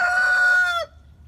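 A rooster crows loudly and close by in a backyard garden pen where chickens are kept, one long harmonic call that cuts off sharply, leaving quiet ground noise.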